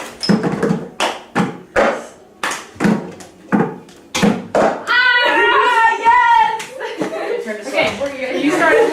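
A hand clapping game played by a group in Kenya, with sharp rhythmic claps and slaps repeating steadily, then giving way to laughter and excited voices near the end, with talk throughout.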